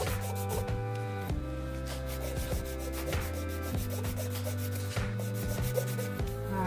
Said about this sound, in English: I'm going to come in and file the shape of my free edge to the desired shape for my customer